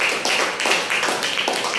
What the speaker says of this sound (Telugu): చప్పట్లు కొట్టాలి అందరూ. గట్టిగా కొట్టాలి.